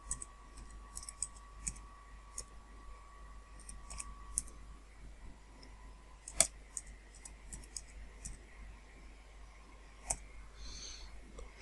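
Password being typed on a computer keyboard: scattered soft key clicks and taps at close range over a quiet room hiss, with one sharper keystroke partway through; no speech.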